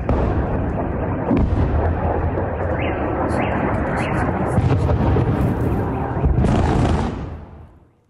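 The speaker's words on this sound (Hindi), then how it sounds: "ब्लैक सी से क्रीमिया के सेवस्तोपोल पर गोलाबारी की गई।" Shelling from the Black Sea strikes Sevastopol in Crimea, making a loud, continuous roar of rumbling blasts and crackling bursts that fades out at the end.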